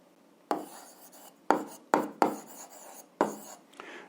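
An algebra equation being written out by hand: several sharp, scratchy strokes with quick onsets and short fading tails, spaced irregularly and heard close and alone.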